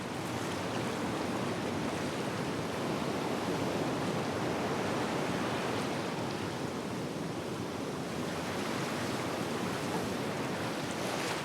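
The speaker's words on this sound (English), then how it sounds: "the ocean waves that break and pass over the reef" Continuous roar of ocean surf breaking over a coral reef at Bora Bora in the distance, a broad, steady wash of waves with gentle swells in intensity.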